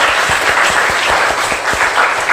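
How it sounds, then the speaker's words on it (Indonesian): A classroom of students claps for a classmate, brisk dense applause with audible individual claps, close and loud for a couple of seconds. "tepuk tangan buat Agung"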